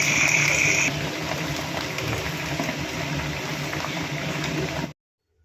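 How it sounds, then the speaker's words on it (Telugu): Chicken pieces frying in hot oil for a chicken pickle, a steady dense bubbling hiss that runs close and loud for about five seconds before cutting off abruptly. "ఇప్పుడు హీట్ అయిన ఆయిల్లో చికెన్ పీసెస్ అయితే వేసుకొని మధ్య మధ్యలో కలుపుకుంటూ ఉండాలి"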